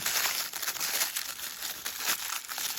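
Tissue paper from a Hasbro Pulse Cobra toy package is unwrapped up close, producing continuous soft crinkling and rustling with brief louder bursts, no talk over it.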